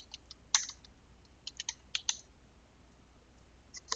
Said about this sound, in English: if we type in Python code here, it's going to execute that